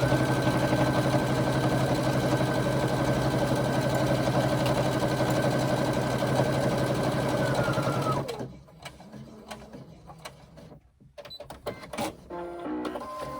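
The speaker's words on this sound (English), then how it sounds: "Then come along with your machine, whichever one, and top stitch along the edge." A sewing machine topstitching along the edge of a crossbody bag runs steadily and loudly for about eight seconds, then stops, leaving quieter handling clicks and rustles.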